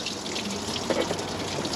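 Water splashing and pouring steadily out of an engine part of a 2019 GMC Yukon with a fluid leak, a close, soft gushing trickle with no talking.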